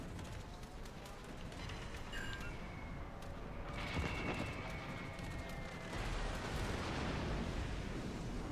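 Airstrike explosions in World of Warships: Legends, a continuous heavy rumble of blasts with a sharp impact near the middle and louder booming toward the end.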